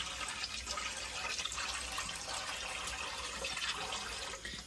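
Broken wheat (dalia) washed under a running kitchen tap, a steady, close rush and splash of water that carries on without a break and has no talk over it.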